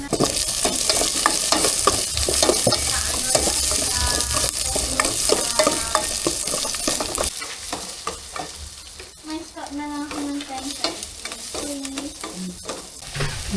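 Garlic, onion and ginger sauté in a pan, a dense continuous sizzle with steady stirring scrapes, easing slightly in the second half as faint tonal clatter appears.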